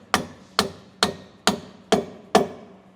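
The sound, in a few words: hammer tapping half-inch bolt into traction bar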